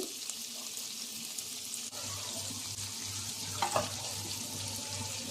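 Cashews and almonds frying in hot butter for Arabian chicken kabsa: a soft, continuous sizzle with light stirring and a low hum underneath, fairly quiet and without speech.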